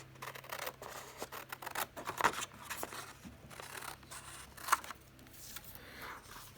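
Scissors snip through paper to trim a journaling card to fit a pocket, a run of close, soft crisp cuts with faint rustling between them.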